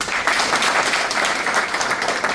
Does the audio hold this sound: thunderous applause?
yes